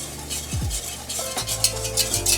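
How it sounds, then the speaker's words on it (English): Cream being whisked into bubbling caramel in a pot, with close scraping and stirring strokes over a low boiling sizzle, short clinks and no talk. "Now, you can bring your whisk in."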